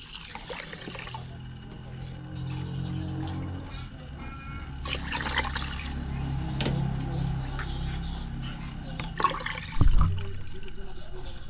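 Water runs from a tap into a pot of uncooked rice for washing, a soft continuous trickle and pour with a brief splash near the end, quiet and close.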